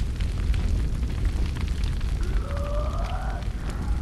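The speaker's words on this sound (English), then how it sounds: "Why would he want a raging fire in a building made of wood?" A fire burns inside a wooden building in the video game ZombiU, heard as a steady, loud roaring rumble with a brief rising tonal sound partway through, and no talking.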